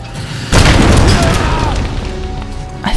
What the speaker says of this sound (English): I think I just shot him with a grenade.